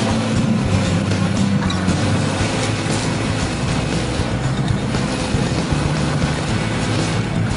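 A Chevrolet Equinox spins its front wheels on a hill during an all-wheel-drive test, producing a loud, steady engine roar and tire whine that holds throughout without voices.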